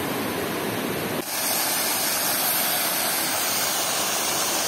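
A river runs over rocks like a small waterfall at night, giving a steady broadband rushing roar that continues unbroken throughout, close and fairly loud, with a brief dip near the start.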